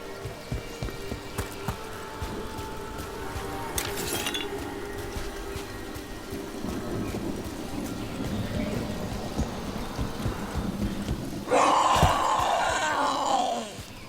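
Rain falls steadily in Dragon Age: The Veilguard, a soft patter under faint game ambience with scattered glassy clinks, and near the end a louder rumbling thunder swell rises and lingers before easing off.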